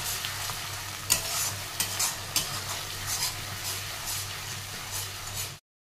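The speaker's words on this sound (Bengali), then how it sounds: "তো এটাকে 2 মিনিট মতন আমি একটু ভালো করে ফ্রাই করে নেব" Chicken frying in a pan for a dahi chicken dish, a continuous close sizzle with occasional stirring clanks and scrapes, ending in sudden silence.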